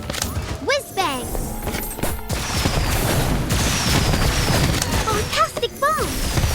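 Whiz-Bang firework spell effects from a Harry Potter video game, with a run of loud crackling bursts, booms and whistling streaks, plus brief chirpy voice-like sounds over dense noise.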